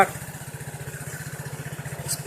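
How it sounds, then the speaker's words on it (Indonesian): A Vespa Sprint 150 3V scooter's 150 cc engine idling roughly, a low, quick, uneven pulsing throb heard close and fairly quiet, with no voices. "suaranya emang kasar banget pas motor Vespa 150 cc"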